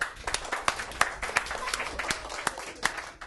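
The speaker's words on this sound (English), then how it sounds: "Let's have a massive round of applause for Drew." A classroom audience applauding Drew McAdam, brisk dense clapping from several hands at once, close and continuous for a few seconds, with faint voices mixed in.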